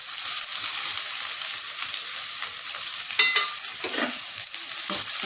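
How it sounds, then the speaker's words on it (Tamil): Chopped onions sauté in a pan with cinnamon and fennel for a tomato kurma, giving a steady sizzle broken by scraping stirs of the spoon, close and fairly quiet. "இந்த வெங்காயம் கொஞ்சம் நல்லா வதங்கிருச்சு."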